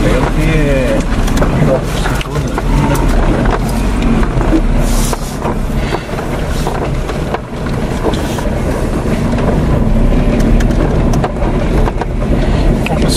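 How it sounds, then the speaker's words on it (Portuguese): A car struggles along a muddy dirt road through farmland, nearly getting stuck, its engine droning loud and rough with bumps and rattles throughout while someone talks over it. "por pouco o carro não ficou atolado agora"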